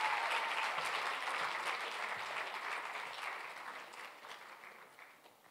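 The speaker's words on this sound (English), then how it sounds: "Please give her a warm hand of applause." Warm crowd applause at a gala dinner award presentation, a dense wash of clapping from many hands that gradually fades away over several seconds, somewhat distant and quiet.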